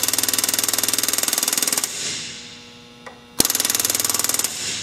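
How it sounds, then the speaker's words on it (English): Pneumatic rivet gun hammering number four rivets in aircraft sheet metal, a fast loud rattling burst that stops, a quiet gap with a sharp click, then rattling again, no talk. "That's about how strong I want this to be to drive number four rivets"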